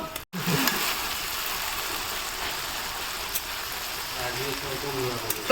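Onions sizzle in hot oil in a pan while mutton curry is being cooked at home, a steady even hiss that runs throughout after a brief bump at the start, with no voices over it.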